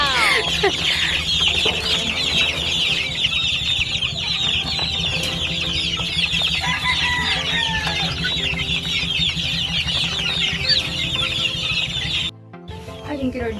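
Gamecocks raised for fighting cluck and call steadily over a dense, continuous farmyard din, with occasional crowing, close and loud throughout before a brief dip near the end.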